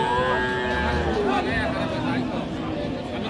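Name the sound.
cow mooing at cattle market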